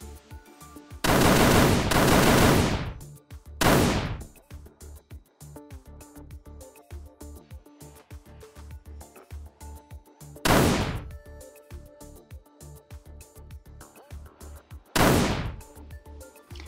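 Bursts of automatic gunfire from the video game Fortnite, loud rapid volleys in three separate stretches with quieter rhythmic game sounds between them.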